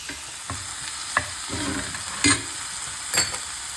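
Onions dropped into hot vegetable oil for mutton fry give a close, crackling sizzle, punctuated by several sharp spatula strikes and stirring scrapes at irregular intervals.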